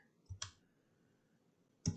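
Two crisp clicks close together, then a pause before another sharp click near the end, like a computer mouse button pressed in a quiet room.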